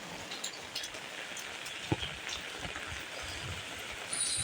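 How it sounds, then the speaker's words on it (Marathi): Rainwater runs off roof eaves in Konkan during the first rain after a long dry spell, a soft, steady patter with scattered drips and splashes close by. "हे बघा पावळीचं पाणी कसं पडतं आहे"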